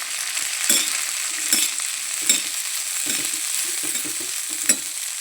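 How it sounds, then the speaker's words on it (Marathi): Chickpea greens fry in oil with garlic and green chilli, a steady close sizzle broken by several sharp scrapes and knocks of a spoon stirring the pan, with no voices. "तेल टाकलं, लसण आणि हिरवी मिरची आणि ती सोले, हरभऱ्याचे सोले छान मिक्स करून घेऊ"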